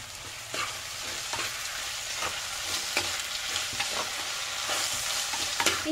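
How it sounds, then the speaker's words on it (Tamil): Tomatoes frying in a hot pan for a chicken-bone egg gravy, with a continuous crackling sizzle and regular spatula scrapes stirring them every second or so, close and fairly loud with no talk. "தக்காளி சேர்த்துக்கிறேன்"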